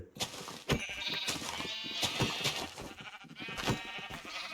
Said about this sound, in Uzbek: Menda ovqat tugadi, qo'ylarni o'ldirishga to'g'ri keldi